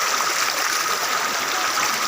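River water rushes steadily at Bhairabkunda while someone bathes in it, a continuous close, even wash of flowing water with no break and no talking.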